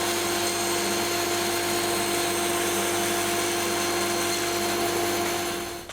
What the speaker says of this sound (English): All of this is excess that we need to remove, so I'll rough cut that at the bandsaw